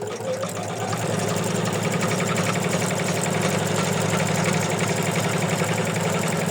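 An embroidery machine stitches an in-the-hoop ornament, a loud, steady mechanical whir with a fast regular needle rhythm running continuously after a brief start.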